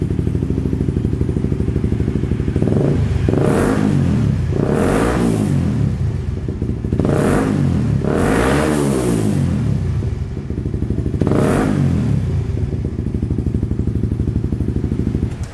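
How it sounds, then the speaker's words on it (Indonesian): Motorcycle engine revving after fresh glass wool was packed into its exhaust, a loud close idle broken by four or five quick throttle blips that rise and fall, with a mellow muffled exhaust tone and no talk. "Setelah penggantian glass wool, suaranya jadi jauh lebih empuk. Jadi enak banget suaranya. Ini kita ref sedikit."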